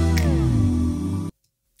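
Loud music groove loop for background music, with a sustained vocal ooh sample sliding through the transition before cutting off abruptly into silence.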